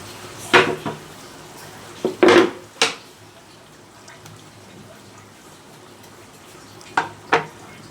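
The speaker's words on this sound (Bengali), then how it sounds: "তো দেখো বন্ধুরা একেবারে তেল তেল ফুটে বের হয়েছে মাছ থেকে" Hilsa fish cooked Barisal-style in oil with masala, sizzling as a low, steady background hiss broken by several sharp clinks and scrapes of a metal utensil against the pan.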